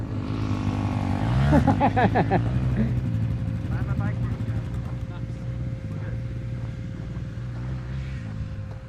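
A race vehicle engine at a motorsport training camp revs its throttle in quick rising and falling sweeps, then settles into a steady, droning idle with a thin sustained tone, while people talk nearby.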